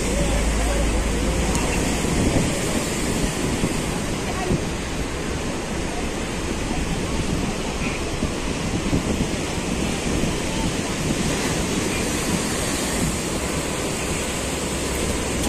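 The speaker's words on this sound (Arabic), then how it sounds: "والنهاردة ارتفاع شديد جدا في الأمواج" High sea waves crash on the shore at Alexandria in a continuous loud roar of surf, with wind rumbling on the microphone and a voice talking over it.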